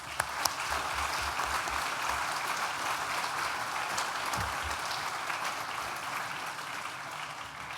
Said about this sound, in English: Graduands, please join me in a round of applause for all of those people